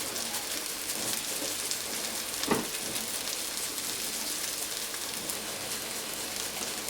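Mushrooms and garlic frying in heated oil in a pan, a steady close hiss and crackle lasting throughout with one brief louder pop partway through.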